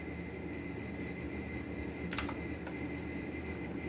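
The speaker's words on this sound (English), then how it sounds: "start the flashing process of the TWRP by typing fastboot boot" A few quick keystrokes on a computer keyboard while a fastboot command is entered to flash TWRP recovery onto a Xiaomi Mi 11X, faint and close, over a steady fan hum.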